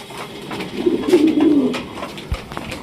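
Rajgolla pigeons coo in a low, rolling burst at close range, with faint background clicks and a short thump near the end.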